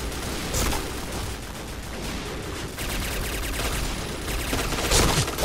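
Steady gunfire rattles through a Point Blank firefight, dense automatic bursts running nearly throughout with sharper loud shots standing out near the end.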